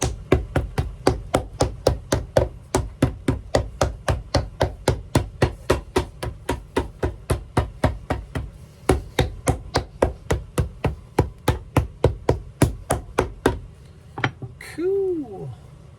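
A hammer strikes Alden Indy leather boots in a steady, rapid series of sharp, close taps lasting many seconds, stopping near the end, where a brief voice is heard.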